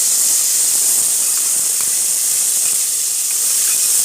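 Two small tomatoes sautéing in a pan over sautéed onions for a gourd and small bean kootu, giving a steady, loud, even hiss that runs unbroken throughout.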